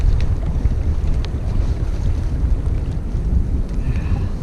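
Strong wind while walleye fishing on the St Clair River, roaring and buffeting the microphone in a loud, continuous low rumble with no talking.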